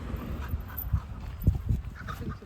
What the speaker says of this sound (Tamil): ப்ரௌன் கலர்ல இருக்குது நாய்